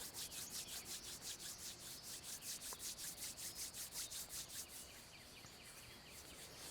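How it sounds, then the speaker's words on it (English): Hands rub briskly together in a quiet room, making a fast, even swishing rhythm of soft strokes that continues for several seconds before easing off, faint and close. "rub them together, creating a warm friction"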